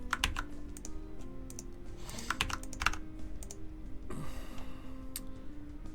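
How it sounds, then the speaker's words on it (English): Typing on a new computer keyboard, bursts of crisp close key clicks in quick irregular runs with short pauses, over a soft background tone. "the new keyboard I hear"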